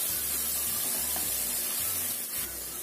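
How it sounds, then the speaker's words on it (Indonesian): Spice paste sizzles steadily as it is sautéed in a hot pan, a continuous close frying hiss with low rumbling underneath and no talking. "Setelah panas, kita masukkan bumbunya. Kita tumis sampai bumbunya tercium bau enak."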